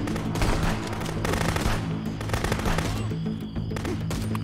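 AK rifle from Contraband Police spitting rapid automatic fire, a dense, continuous rattle of close, loud gunshots with only brief lulls over a low rumbling bed.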